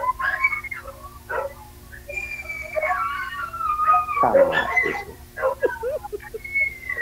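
Several pet dogs whine and whimper in high, wavering tones, breaking into short yips and a brief louder outburst, close by while people chat intermittently.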